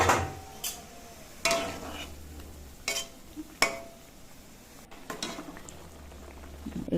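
Eggplant pieces fry in hot oil in a wok, a steady low sizzle running under a few sharp clanks and scrapes of a utensil against the metal pan, close by with no talking.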